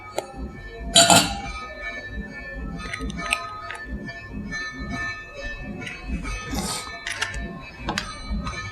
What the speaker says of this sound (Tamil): இதை இந்த விஸ்கை கொண்டு நல்லா இதை நம்ம வந்து கலக்கி விட்டுக்கலாம்